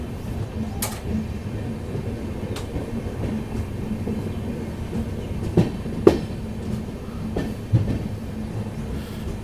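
A passenger train rolls steadily into Daliganj Junction station in Lucknow, a continuous low rumble of wheels on track with a few sharp clicks and squeals over the rail joints, fairly near and without talk.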